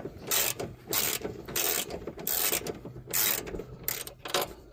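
Ratchet clicking in repeated bursts while a sway bar bushing mounting block is tightened on a Can-Am Maverick X3, close and alone, each stroke a quick rattle of pawl clicks separated by short pauses.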